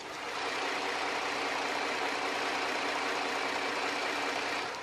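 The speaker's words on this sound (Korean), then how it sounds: "바로 엔진 소리 한번 들려드릴게요." Lincoln MKX, a downsized gasoline all-wheel-drive SUV, idling with the hood open and the heater on: a steady, smooth low hum with a faint broadband whir, close and quiet, no voices.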